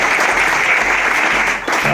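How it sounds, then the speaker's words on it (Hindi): Applause from a gathering of leaders at a Spring Hotel meeting in Mirzapur, a steady burst of clapping filling the whole two seconds, close and loud, with a hint of voices underneath. "तालियां आपके लिए"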